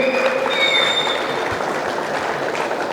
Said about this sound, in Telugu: కరతాళ ధ్వనులతో వేదిక మీదకి ఆహ్వానిస్తున్నాం. Please Bigg clap please